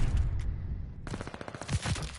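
Pistol shots in a Call of Duty match ring out in a quick, uneven string of sharp cracks after a brief lull, close and fairly loud over game ambience.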